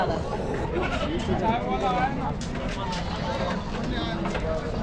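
Goats bleat repeatedly amid a busy crowd at the Chakan goat and sheep market in Maharashtra, their wavering cries rising over a steady babble of voices and market chatter.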